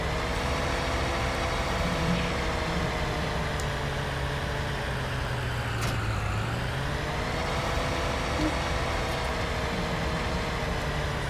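A steady tractor engine drones without a break while hauling tippers in Farming Simulator 19: a loud, even, low engine hum that stays constant throughout, with no talking.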